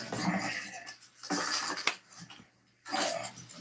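A pit bull whimpers and whines in three short bursts separated by brief pauses, heard fairly close in a garage with no talking.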